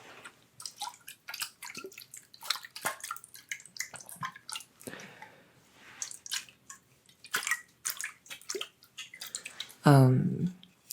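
Water sloshing and dripping inside a metal water bottle, a series of short, close wet splashes and gurgles in irregular bursts, ending with a louder resonant slosh, with no voices.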